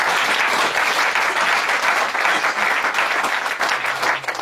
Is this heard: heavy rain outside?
no